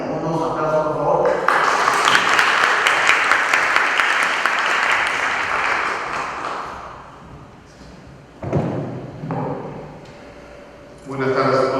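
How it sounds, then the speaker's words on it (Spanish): Audience applause at a book presentation on criminal procedural law swells and holds for several seconds in a hall, then fades as a voice takes over, with a few thumps and a brief second round near the end. "Unos aplausos, por favor."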